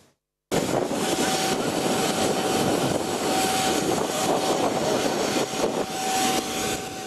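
An airplane landing in Kazan makes a loud, steady engine roar that starts abruptly and holds for several seconds, with a faint constant whine running underneath. No one speaks.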